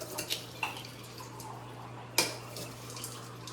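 Dishes being taken out and handled in a home kitchen: a few sharp ceramic clinks and knocks spaced apart, the loudest near the middle, over a quiet steady hum.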